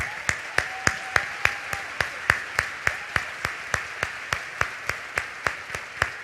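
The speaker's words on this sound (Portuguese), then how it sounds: "Queria uma salva de palmas para a igreja," Applause from a church congregation comes across as steady, evenly spaced claps, about three or four per second. The sharp, moderately faint claps continue without a break for six seconds, with no talking.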